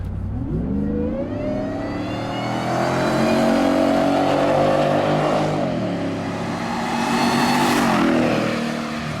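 A 750-horsepower Shelby F-150 pickup truck passes by outside, its engine revving and rising in pitch as it approaches, swelling loudly in the middle, then revving again before fading.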